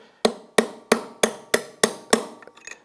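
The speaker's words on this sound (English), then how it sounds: "I'm not using anything really special here, just a chisel" A hammer strikes a chisel to split open the staked nut on a 2005 Honda CRF450-R engine, seven sharp metallic blows in an even rhythm, close and loud, then a couple of lighter taps.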